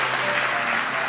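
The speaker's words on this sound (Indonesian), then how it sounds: "Kasih tepuk tangan tuh semuanya." Church congregation applause in Kupang, a brief steady wash of clapping with no gaps.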